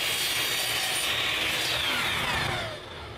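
A power saw cuts wooden sideboards to length with a loud, steady whine up close, easing off briefly at the end as the cut finishes.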